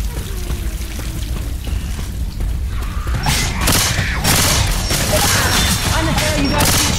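Gunfire from the zombie shooter Left 4 Dead 2 erupts after a quieter stretch, dense bursts of rapid shots with booms and crashes piling up loudly over game noise.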